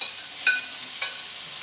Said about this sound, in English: and you can hear the sizzle.